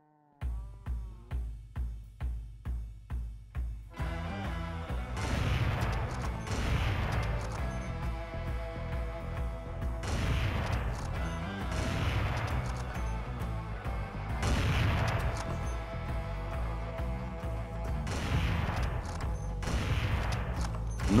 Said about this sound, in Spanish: Como penúltima arma tenemos a la AWP, este es un francotirador con el que podrán matar enemigos a larga distancias